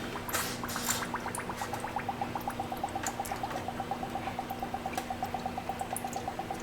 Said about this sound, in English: It is definitely producing some air bubbles, isn't it?